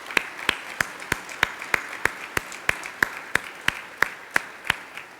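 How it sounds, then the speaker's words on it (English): Sparse, evenly spaced claps ring out in a steady rhythm at a keynote event, honoring the Mayor, about three per second, crisp and fairly close, with a quiet room behind them and no speech. "Let's give the Mayor another round of applause for the great work."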